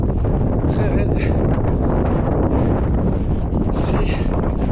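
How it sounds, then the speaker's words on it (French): Strong headwind buffeting the microphone on a steep mountain trail climb during a trail race, a loud continuous roar with gusty surges throughout. "On a un vent de face dans cette montée très raide."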